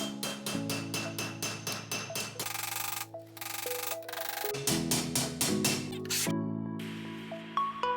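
Metal panel hammered against an anvil to tighten a bend while hand fabricating a rust-repair panel; a rapid, steady series of loud, ringing metallic strikes, with several pitches and sustained clangs resonating throughout.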